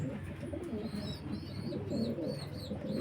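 Pigeons from an old Mohini bloodline coo against a busy, noisy backdrop, low murmuring calls mixed with faint higher chirps, steady and moderately near.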